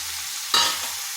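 Raw jackfruit pieces drop into a pan of sautéing potatoes, bringing one sudden loud hiss that fades over about half a second in an otherwise quiet moment.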